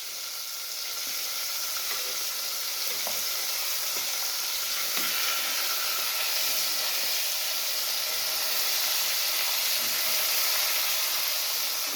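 Steam hisses in a steady, fairly quiet broadband rush as a pressure cooker is opened in a home kitchen, continuing without a break for several seconds and with no talking.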